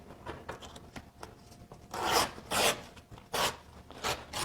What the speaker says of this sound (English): you're going to put your opposite hand on the ruler, and then you're going to rip against